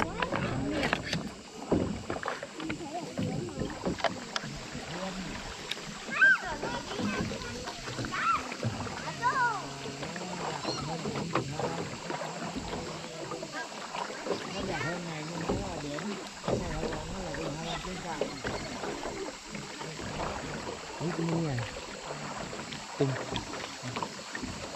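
A rowed sampan carries visitors through the clear water of Trang An in Ninh Binh, Vietnam. Soft splashes and the creak of oars go on steadily under wind noise and scattered voices nearby.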